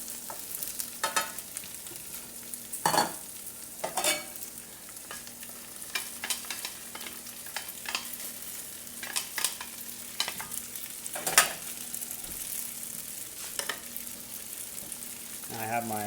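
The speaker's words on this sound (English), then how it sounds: "I have my stir fry." Vegetables stir fry in a pan, giving a continuous crackling sizzle broken by sharp spatula clanks and scrapes against the pan, close and fairly loud, with no talking.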